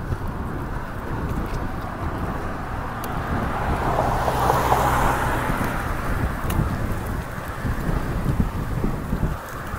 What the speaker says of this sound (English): Uphill into the wind.